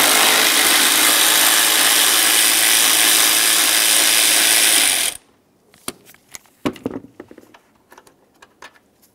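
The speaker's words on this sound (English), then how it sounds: "remove that 8-millimeter headed bolt as well" A ratchet loosens an 8 mm bolt on the radiator fan shroud of a 2003-2011 Mercury Grand Marquis, sounding first as a long, steady, loud clicking run, then giving way to scattered close metallic clinks and taps.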